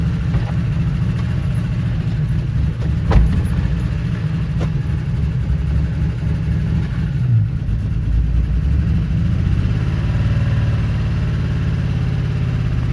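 A car engine with soap poured inside it runs at a loud, steady, rough idle in a service bay, a continuous low rumble with a few faint clanks and no talking.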